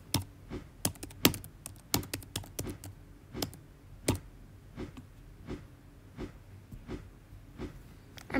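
Computer keyboard keys pressed hard while playing Roblox Arm Wrestle Simulator, a rapid irregular run of sharp close clicks that thins into slower, evenly spaced taps, with no talking.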